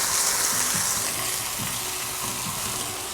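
Onion added to a hot pan of toasted spices for slow-cooked pulled pork, hissing and sizzling close up in a steady, bright frying crackle, with no talking.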